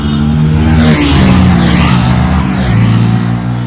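A car speeds along a narrow hill road near Kodaikanal, its engine loud and close with shifting, revving tones that rise and fall throughout, no talking.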